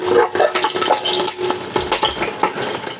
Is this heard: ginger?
yes